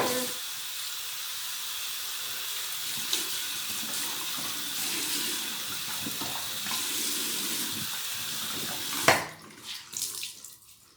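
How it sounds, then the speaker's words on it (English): Water runs steadily from a bathroom tap over an elbow for a rinse, a continuous close hiss and splash lasting about nine seconds before the flow stops and a few drips and handling sounds follow. "Rinse it off again."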